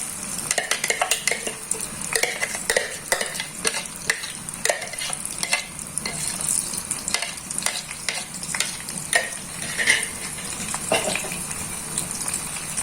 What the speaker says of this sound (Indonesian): Ini bumbunya saya tumis.